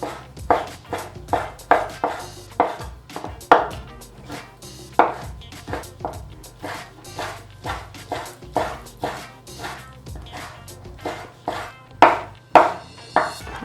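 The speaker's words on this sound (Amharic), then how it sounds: "ከዛ በቃ መክተፍ ነው።" A knife chops meat for Ethiopian sulso on a board, steady rhythmic thuds close up, roughly two strikes a second with occasional faster bursts, no talking.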